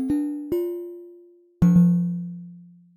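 Metallic resonator tones from Ableton Live's Corpus instrument, struck three times. Each strike rings out and decays slowly, and the last one sustains a lower ringing tone. Nobody speaks.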